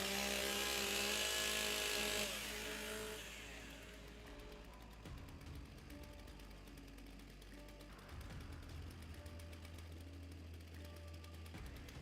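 STIHL chainsaws warming up at a timbersports championship, a loud whining engine roar that fades after a couple of seconds into a steadier, quieter drone of several saws idling and revving in the distance.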